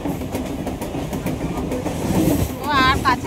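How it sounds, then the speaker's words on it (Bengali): Inside a moving passenger train, carriages rumble and clack rhythmically over the rails, loud and close, with voices chattering nearby and a whistling tone rising near the end. "আমরা এখন ট্রেনে যাচ্ছি।"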